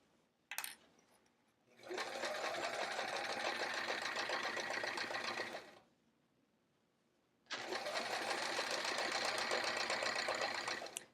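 A sewing machine stitches the edges of a fleece-backed outer fabric panel for a travel art folio, in two sustained runs of steady whirring, each several seconds long, separated by a short quiet pause.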